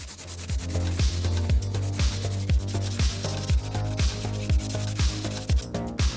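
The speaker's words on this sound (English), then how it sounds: "I'll be using 80 grit sandpaper." Coarse 80-grit sandpaper rubs back and forth on a resin-coated 3D print in a steady, even rhythm of about two strokes per second, close and loud, each pass a rough scratchy swish.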